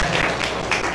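A church congregation claps together in a dense, continuous burst of applause that holds steady for the whole moment.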